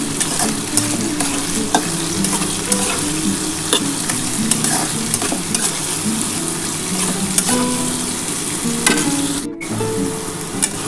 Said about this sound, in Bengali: এবার এটা ভালো করে একটু করে ভেজে নিই।